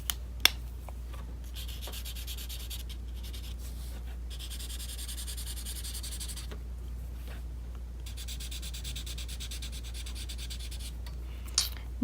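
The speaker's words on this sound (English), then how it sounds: "The more I rub, the darker it will get." Drawing medium rubbed over dried watercolor on paper for a portrait, a soft, continuous dry rasping that repeats in strokes, faint and close, with a few small taps and no talking.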